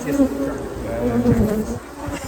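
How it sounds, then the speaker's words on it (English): Honey bees buzz steadily around a queen cage in a hive, a close, dense droning hum that holds throughout with no talking. "you see the bees down there on that cage? They're really checking that queen out"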